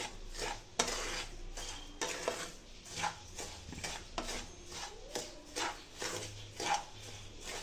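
A spoon stirs rava laddu mixture with dry fruits in a vessel, making quiet, rhythmic scraping and clinking. The strokes repeat steadily and sound close but soft.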